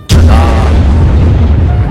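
A homemade firecracker goes off in one sharp, very loud boom that rings into a rumbling low tail lasting nearly two seconds.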